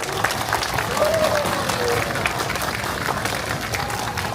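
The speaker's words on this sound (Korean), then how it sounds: "우리 격려의 박수 한번 다시 부탁드리겠습니다" Crowd at an outdoor protest rally applauding, loud continuous clapping across the whole clip with a faint voice underneath.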